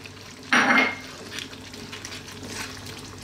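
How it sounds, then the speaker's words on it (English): A lamb dopiaza curry is stirred in a pot after garam masala and fresh cilantro go in, giving one loud wet scrape and clatter of utensil against the pot, followed by quieter stirring sounds and a faint sizzle. "We're going to give that a nice mix."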